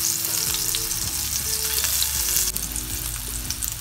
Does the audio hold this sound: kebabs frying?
yes